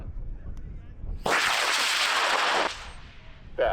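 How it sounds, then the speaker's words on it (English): A high power model rocket launches at a Kansas rocket meet, its motor igniting with a sudden loud broadband roar that holds steady for about a second and a half, then cuts off abruptly, leaving quieter outdoor ambience. "So let's put Julian's rocket up in 5, 4, 3, 2, 1"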